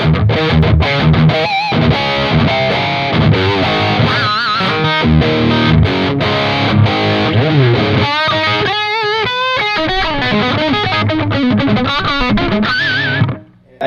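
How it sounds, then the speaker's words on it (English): An Epiphone Casino plays lead through the high-gain lead channel of a Mesa Boogie amplifier with a little reverb and a noise gate, producing loud, sustained distorted notes and fast runs that cut off abruptly at the end. "this is a real heavy gain setting from the lead channel of the boogie"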